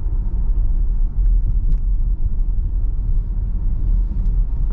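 A 2022 Audi Q5 Sportback on summer tires rounds a corner, its interior filled with a steady, loud low-pitched road and engine rumble that holds even throughout.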